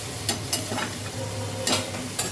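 A little spice-bowl rinse water added to spices frying in a pan, a soft steady sizzle broken by several light scraping stirs.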